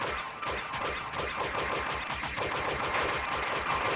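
Rapid, sustained automatic gunfire from robots in a video game, a dense unbroken rattle of shots lasting the whole stretch, loud and close with no talk over it.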